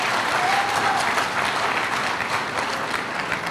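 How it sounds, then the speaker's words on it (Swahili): An audience applauds steadily at a Tanzanian club event about stadium investment, a dense wash of clapping that runs evenly throughout. "Tuwapigie makofi tafadhali."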